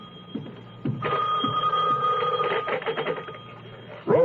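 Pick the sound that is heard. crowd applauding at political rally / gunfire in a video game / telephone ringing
telephone ringing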